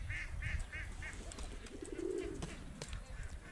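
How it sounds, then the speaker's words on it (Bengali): Ducklings under an orange orchard give a run of soft, rapid quacks and peeps at low volume, with a few scattered calls and faint background noise. "কমলা বাগানের নিচেও হাঁসের বাচ্চা ঢুকে গেছে।"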